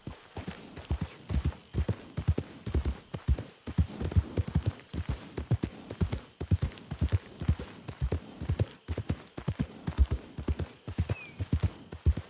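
Horse hooves pound in a steady, rapid gallop rhythm through nearly the whole stretch in Red Dead Redemption 2, loud and close, with a brief whinny-like tone late on and no talk.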